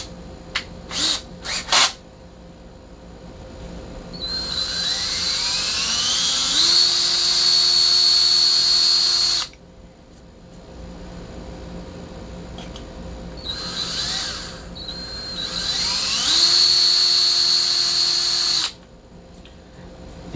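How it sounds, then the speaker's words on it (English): A power drill bores into a Mopar 340 Thermoquad aluminum intake manifold during a ported-manifold epoxy repair, two sustained high whining runs that rise in pitch as the bit spins up, each lasting several seconds, close and loud. "I just like to drill enough that it gives the epoxy something to really bite into."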